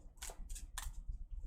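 Tarot cards being shuffled by hand, three short crisp riffling bursts close to the microphone followed by softer rustling and handling noises, quiet overall with no speech.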